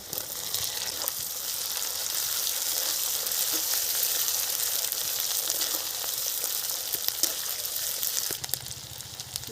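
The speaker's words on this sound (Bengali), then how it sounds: "দু তিন মিনিট ভাজা হয়ে গেছে আদা বাটা দিয়ে দিলাম দিয়ে দেব টমেটো কুচি" Ginger paste and chopped tomato fry in a pan with garlic for a country chicken curry, giving a steady, moderately quiet sizzle with a hissy, watery texture and a few soft stirring clicks.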